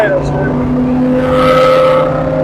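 A Jack Roush stage 3 Ford Mustang engine drones loud and close at steady speed, its tone rising slightly as it pulls along, with light tire noise and no voices.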